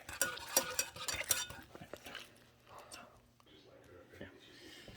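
Wing sauce stirred in a pot at close range, with a spoon scraping and clinking in quick strokes early on and then easing into softer, sparser scrapes.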